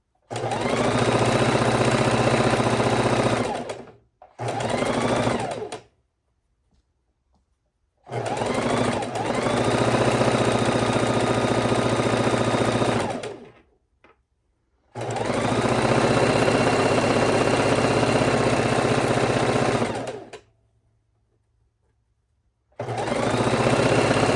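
A sewing machine stitches 2 1/2 inch scrap strips of a quilt, running in four loud, steady mechanical bursts of several seconds each, separated by short silent pauses.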